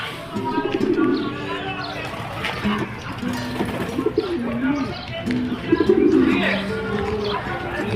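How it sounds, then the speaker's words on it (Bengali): Several white pigeons coo in recurring throaty phrases close by in Saudi Arabia, interspersed with light chirping and a murmur of voices in the background. "অনেক কবুতর।"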